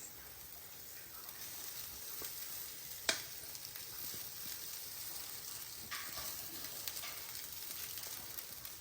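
Cooked rice tipped into a pan of frying raw mango mixture, a soft continuous sizzle with light scraping and stirring, one sharp clack of a spoon against the pan partway through, no talking.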